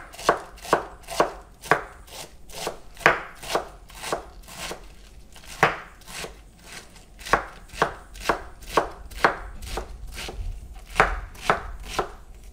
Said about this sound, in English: shred my lettuce